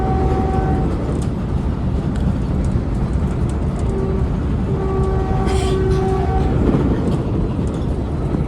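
A loud Caltrain commuter train horn sounds in several sustained blasts over the steady rumble of the moving southbound express, with short gaps between the tones.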